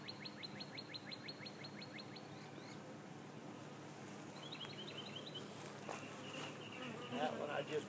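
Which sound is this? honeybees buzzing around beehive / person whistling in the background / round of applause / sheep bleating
honeybees buzzing around beehive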